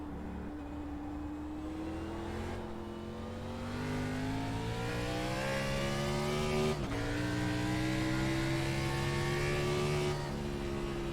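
A NASCAR Cup stock car engine roars at the Daytona Road Course in the iRacing simulator, revs climbing steadily through gears with a sharp shift drop midway, loud and continuous from the cockpit.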